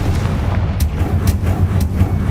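A Confringo fire spell explodes in the video game Hogwarts Legacy, giving a loud, continuous roaring blast with a few sharper booming bursts layered through it.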